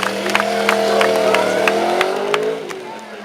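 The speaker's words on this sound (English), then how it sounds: "the official Yamaha stunt rider, on his R1, here we go" A Yamaha R1 sport motorcycle engine revving high during stunt riding at a bike show, holding a sustained whine before dropping off, with a crowd and a loud voice in the background.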